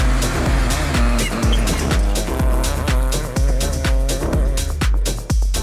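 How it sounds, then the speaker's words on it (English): Mahindra Super XUV300 rally car built by Arka Motorsport, driven hard on the Coimbatore windmill rally stages, its engine snarling loudly with rapid repeated revving bursts and crackling gearshift cuts in a fast, rhythmic series. "This is the Super XUV300 built by Arka Motorsport for Mahindra Adventure"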